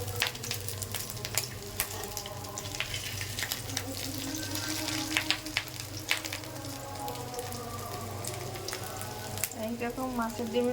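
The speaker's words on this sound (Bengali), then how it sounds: "এইরকম মাছের ডিমের বড়া ভাজবেন।" Fish roe fritters frying in hot oil give a steady close sizzle and crackle with occasional stirring and spatter, and a voice talks briefly over the cooking.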